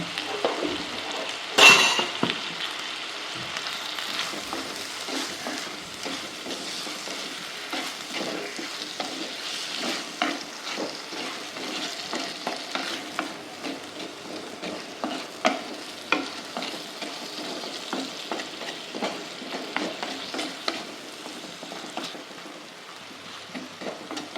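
Chopped tomatoes with salt sauté in a pan for a Kerala colocasia leaf curry, a steady sizzle broken by frequent clinks and scrapes of a spoon stirring, close and with no talk.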